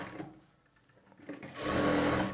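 A sewing machine stitching a blouse starts with faint intermittent clicks, then runs in a steady, close whirring burst toward the end.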